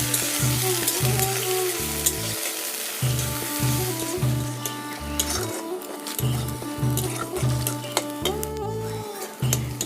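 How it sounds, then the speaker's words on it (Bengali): Onions sizzling as they fry in a pan for potol chop, a continuous crackling sizzle with stirring and occasional clinks of a utensil against the pan, no talking. "পেঁয়াজগুলো এখন একটু ভাজা ভাজা করে নেব"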